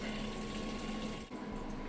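A Maytag Bravos XL top-load washer fills its drum with water, a steady close rushing and gushing that runs without pause, with only a brief dip near the end.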